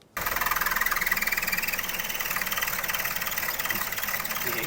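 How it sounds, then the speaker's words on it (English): A 2011 Mazda2 engine idles low and steady with a rhythmic, close-up pulsing vibration, a collapsed engine mount letting rubber rub against metal underneath; no one speaks. "I reckon the noise is actually between this rubber and the metal here."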